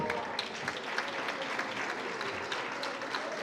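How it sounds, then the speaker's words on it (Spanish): Audience applause fills a workshop room on feelings and spirituality at a pastoral center, a steady, dense wash of clapping from many hands lasting throughout, with no voices standing out. "El aplauso háganmelo al término, no ahora"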